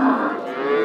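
A single short, close moo from a dairy cow at the Beshariq livestock bazaar, a clear tonal call heard alone.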